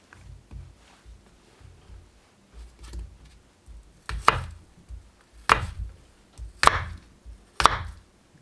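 An Odenwolf fixed-blade survival knife dices on a cutting board, with soft slicing at first, then four crisp, sharp chops a second or so apart ending in hard blade taps on the board, close up.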